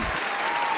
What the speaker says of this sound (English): We have more applause